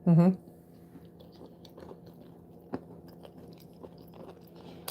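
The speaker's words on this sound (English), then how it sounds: "That crunch you hear is from the top." Someone bites into a homemade cake with a crunchy top, a brief voiced sound at the start followed by soft, sparse crunching and chewing close to the microphone in a quiet room.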